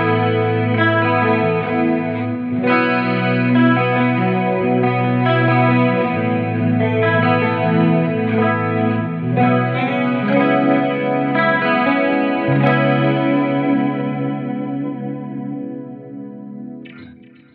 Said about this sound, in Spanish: Lo que vas a escuchar primero es la guitarra eléctrica.